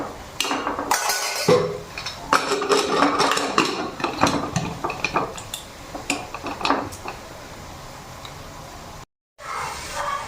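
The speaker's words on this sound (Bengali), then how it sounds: "তো এখন ঢাকনাটা দিয়ে দেবো" Metal cooking pot being handled on the stove, with a cluster of clinks and clanks as the lid is set on, followed by scattered lighter taps and knocks.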